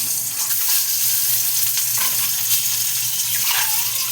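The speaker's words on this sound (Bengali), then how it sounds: "এবার আমি আস্তে আস্তে এই 4টে ডিম দিয়ে দিই।" Four eggs dropped into hot mustard oil in a pan make a continuous, fairly loud close sizzle with a dense crackling hiss throughout and no talking.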